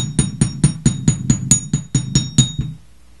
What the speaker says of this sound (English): We're just going to hammer